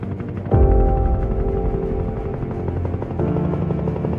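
Helicopter approaching the motor yacht Lady Vera for a landing, its steady rotor drone swelling loudly after half a second and holding a dense, buzzing hum throughout with no talking.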